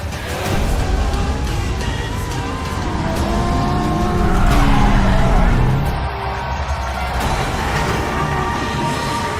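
Drift cars at a DMCC Series drift event at Autodrome Chaudière, Canada, skid and roar in a dense, continuous wash of engine noise and tire squeal. The sound swells midway as cars slide nearby, with crowd and announcer noise blended underneath.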